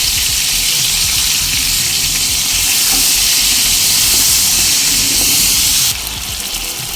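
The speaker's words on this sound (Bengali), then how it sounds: "এবার পটল আর কুমড়োগুলো একসঙ্গে দিয়ে ভেজে নেব" Pointed gourd and pumpkin pieces with salt and turmeric frying together in a pan, a loud, dense, continuous hiss that eases slightly toward the end.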